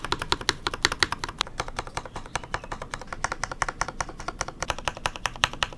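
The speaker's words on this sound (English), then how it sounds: "Overall, I think the keyboard sounds great." Fast, steady typing on a custom mechanical keyboard, crisp close clacks in a dense rhythmic stream with no talking.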